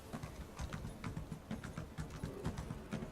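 Horse hooves clip-clopping in the video game Elder Scrolls Online, a quick, regular galloping rhythm of close, fairly quiet hoofbeats over a low rumble, with no voices.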